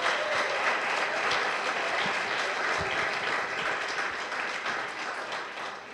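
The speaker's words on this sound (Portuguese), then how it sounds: "Será que você pode aplaudir a Jesus por isso?" A church congregation at an anniversary worship service applauds, a broad, steady roar of many hands clapping that holds strong and then eases slightly toward the end, with no clear voices over it.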